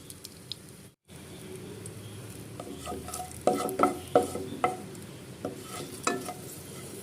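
Halved green chillies fry on medium flame with a low sizzle, and a spoon knocks and scrapes against the pan in sharp, irregular strokes during the second half.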